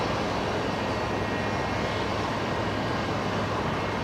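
Qantas 626, an airliner, touching down on runway 01 right at Brisbane Airport at night, heard as a steady, broad engine roar that stays level and fairly loud throughout, with no voices.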